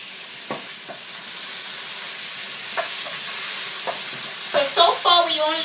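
Cherry tomatoes hit a pan of frying garlic and onions in oil, giving a bright, hissing sizzle with a few utensil taps and scrapes, and a louder burst of spattering toward the end; no talking.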